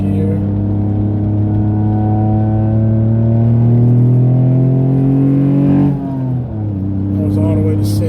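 Mitsubishi 3000GT with a SOHC engine accelerating hard in second gear, its exhaust a loud, steady rising drone that climbs in pitch for about six seconds before dropping on a shift, then settling at a lower note.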